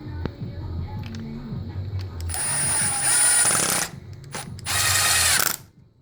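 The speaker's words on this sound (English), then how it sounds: "Then we're going to screw it together like we did the other one." Drill screwing wooden pieces together while building a drill car, with two loud sustained whirring bursts of the driver after quieter handling noises and a brief voice at the start.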